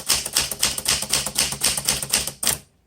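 A 1960s Smith Corona Galaxie typewriter clatters with quick, regular key strikes, roughly a dozen crisp snaps in a steady rhythm up close, then stops.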